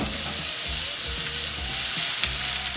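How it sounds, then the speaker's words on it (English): Chopped onions sautéing in a hot pan, a steady close sizzle and frying hiss running throughout with faint utensil scrapes, no voices. "I'm just going to start off with the onions since like I said, my fish is already cooked. So saute those for a few."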